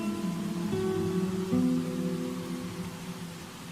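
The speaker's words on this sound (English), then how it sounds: "I love the white noise." A soft, steady hiss like distant rain fills the background, with a few faint sustained tones drifting over it.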